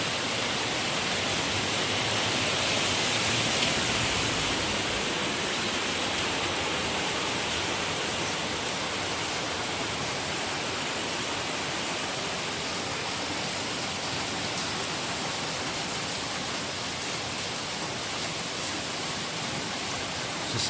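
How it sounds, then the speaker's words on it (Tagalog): Heavy rain pours steadily in Baguio City, Philippines, as a dense, continuous hiss that stays even and loud for the whole stretch. "Lakas na naman ng ulan."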